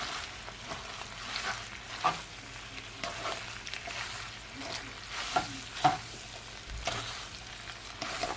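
Jamaican pepper shrimp spaghetti being stir-fried in barbecue sauce, with a steady close sizzle under continuous stirring and tossing, plus a few louder scrapes of the utensil against the pan and no voices.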